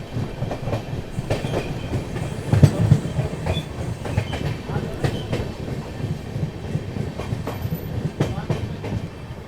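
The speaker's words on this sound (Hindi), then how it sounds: "चलिए दोस्तों ट्रेन अपनी जो है गाजियाबाद जंक्शन स्किप करने जा रही है।" The Mahabodhi Express rolls slowly past Ghaziabad Junction, with a steady rumble broken by repeated clickety-clack wheel beats and a heavier jolt partway through.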